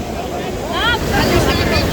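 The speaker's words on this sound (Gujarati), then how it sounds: "તમે ખાલી મોજા જોવો" Sea waves roar in a broad, steady wash at Dwarka with gusty wind noise, while a person speaks briefly over the surf.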